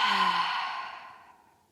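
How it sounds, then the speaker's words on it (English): One long, audible exhale during a guided yoga breathing exercise, close and breathy, starting strong and fading out gradually over about a second and a half. "And again, big inhale and exhale."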